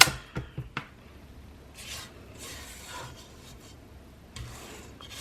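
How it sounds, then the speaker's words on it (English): Spatula scraping the inside of a mixing bowl of pumpkin cream cheese pound cake batter, a few sharp scrapes at first and then softer, drawn-out rasping strokes at moderate volume, with no voices. "That's why it's very, very important to scrape the inside of the bowl."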